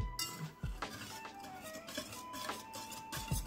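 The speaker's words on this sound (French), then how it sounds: "Vous allez mélanger du coup les jaunes d'œufs qui sont dans le saladier juste là avec les blancs." Egg yolks and whites are mixed in a salad bowl, with irregular clinks and scrapes of a utensil against the bowl. The strokes sound close and moderately quiet, with a few sharper knocks.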